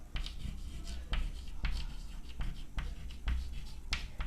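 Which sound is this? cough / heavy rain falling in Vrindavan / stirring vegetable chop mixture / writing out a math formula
writing out a math formula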